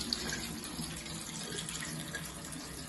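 Tap water runs steadily over rice being rinsed in a pot, a continuous close splashing wash with no pauses and no talk.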